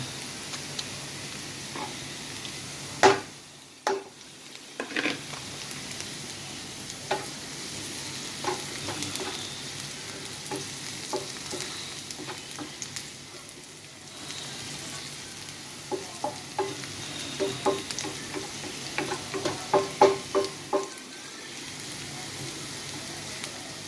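Garlic added to browned onions sautés in a pan for a Filipino bitter-gourd-and-egg dish, with a continuous low sizzle broken by scattered ticks and spatula clicks, close, and no talk.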